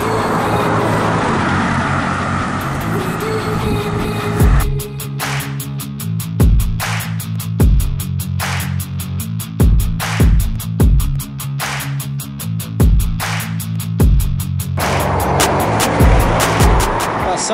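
Cars, buses and trucks cross the bridge over the Capibaribe river, a loud continuous road roar broken by a regular series of sharp thumps as wheels strike the bridge joints.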